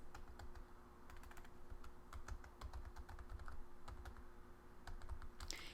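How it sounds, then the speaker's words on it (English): Keys clack quietly on a computer keyboard as search terms are typed in irregular bursts. A low steady hum sits underneath, and no voices are heard. "I'm going to just type in my search terms"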